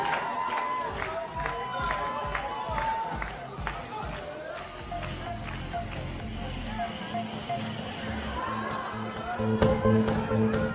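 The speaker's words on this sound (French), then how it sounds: "La foule, le jury et bien sûr tous les spectateurs se moquent de lui à une heure de grande écoute" A television studio crowd jeers and mocks a performer at prime time, with loud, mixed crowd noise and some sharp bursts, while voices talk over it.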